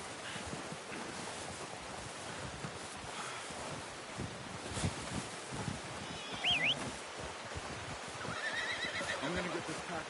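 A horse in a video game whinnies briefly mid-clip over a steady windy, surf-like background, with muffled talk and movement around it.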